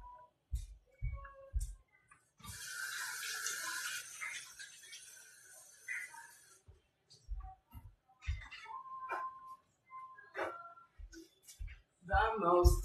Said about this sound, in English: Gotta wash my hands now.